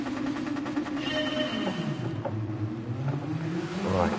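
Engine of a 1971 DeTomaso Pantera in a video game race start, rising and revving continuously as it accelerates, loud and steady with no talk over it.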